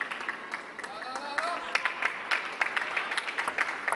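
A table tennis player's hand claps at an ITTF Mixed Team World Cup match, sharp irregular claps scattered over crowd murmur while a commentator talks throughout.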